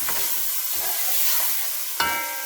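Green peas sautéing in a pan, a steady soft sizzle and hiss running throughout, with a sharp utensil clink near the end as they are stirred.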